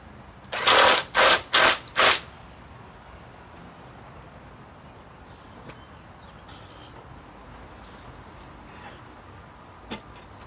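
A ratchet wrench tightens a 9/16 nut on the rear wheel adjuster of a Troy-Bilt 6.75hp mower: four quick, loud clicking bursts up close, then quiet background with a faint knock near the end.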